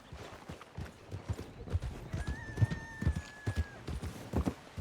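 Horse hooves clip-clop steadily on a dirt path in a Western-themed video game, a near, moderately loud trotting rhythm with a brief whinny-like tone, joined by occasional low talk.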